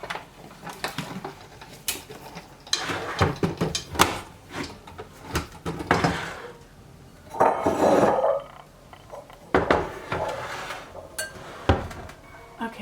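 Dishes, bowls and a platter clink and clatter as they are pulled from kitchen cupboards and set down during decluttering, with scattered knocks, a few drawer or door bumps, and pauses between bursts of handling.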